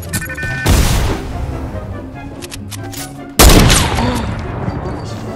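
Two loud sniper shots in Fortnite, each a sharp blast with a long rumbling tail, the second heavier than the first.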